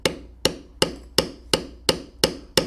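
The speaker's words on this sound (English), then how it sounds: "Notice that I'll start out lightly and then tap a little harder" A mallet taps a metal beveler on leather while carving a bear head, eight evenly spaced sharp knocks about a third of a second apart, close and crisp with nothing else heard.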